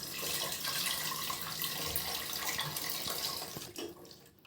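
Soaked tamarind water pours into a cooking pot in a continuous splashing, gurgling stream that stays close and fairly loud, then thins out and ends with a few small drips and a knock.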